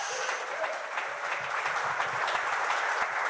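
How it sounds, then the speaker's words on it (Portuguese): Church congregation applauding during a Portuguese-language sermon, a steady dense wash of clapping that holds evenly and loud throughout with no break. "Dá um aplauso ao Senhor"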